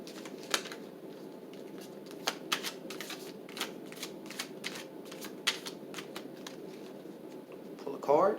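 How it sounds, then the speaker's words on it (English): A tarot card deck is shuffled in quick bursts of crisp riffling and flicking, moderately close, with soft papery rustles between the snaps and a louder flurry at the end. "So let's go ahead and shuffle our deck."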